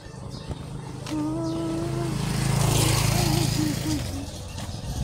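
Motorcycle passing on a village street in Sta Filomena in the afternoon, its engine rising to a hum as it goes by and fading after a few seconds, with people talking nearby.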